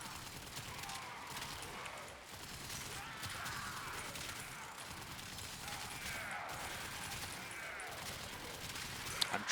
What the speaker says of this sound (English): I'm trying to fire in like long bursts.